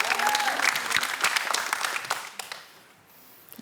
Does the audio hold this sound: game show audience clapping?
yes